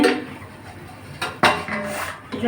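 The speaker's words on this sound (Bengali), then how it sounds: "ঢাকনাটা খুলে নিচ্ছে" A metal lid coming off a pot of thin rui fish curry with potato and drumstick, giving a couple of loud clanks and scrapes of metal on metal, close up, over a steady background hiss.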